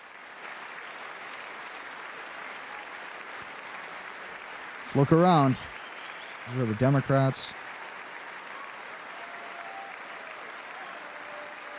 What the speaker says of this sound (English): So the Democrats are clapping for the Olympics, but not for their own country